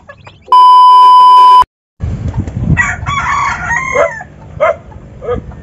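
Backyard chickens cluck and a rooster crows loudly and close, following a steady electronic beep tone that cuts off before the birds come in.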